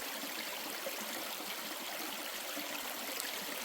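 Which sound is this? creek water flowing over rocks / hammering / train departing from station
creek water flowing over rocks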